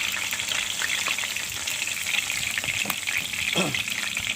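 Hot oil spatters and crackles in a frying pan with a dense, continuous hiss and quick popping bursts, heard up close and unaccompanied by speech.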